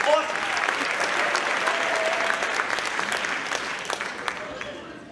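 An audience claps steadily after a children's school music performance, a dense even wash of applause that tapers slightly toward the end, with a few sharper individual claps standing out.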